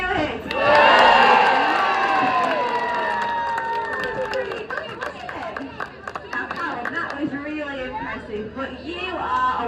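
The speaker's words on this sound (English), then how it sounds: "Now if he does manage anything that looks vaguely like a flip, we're going to give him a massive cheer" Audience at a sea lion show cheering a backflip attempt: a loud burst of crowd cheers and children's shouts that fades into scattered chatter and voices.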